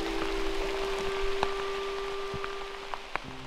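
Steady rain patters through a dense, mossy high-elevation rainforest, with occasional louder drips and a faint tonal hum running underneath, no voices.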